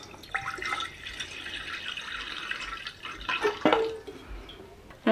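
Water runs and splashes into a plant pot, a gentle trickle with a few brief drips and sloshes, fairly quiet and close.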